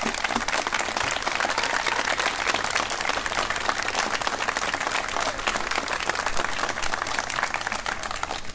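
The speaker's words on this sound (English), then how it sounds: "join me in giving a huge round of applause to all of our park staff" A crowd at the official reopening of Chimney Rock State Park applauds the park staff, producing a continuous, even wash of clapping that holds at steady volume throughout.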